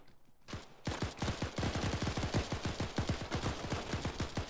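Automatic gunfire in the military shooter game ArmA 3, set in a Falklands campaign operation: a quiet start gives way to a loud, steady burst of rapid shots, dozens in quick succession, near and alone.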